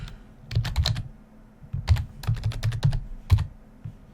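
Quick bursts of typing on a computer keyboard, close and crisp, clusters of rapid key clicks separated by brief pauses, with no voices.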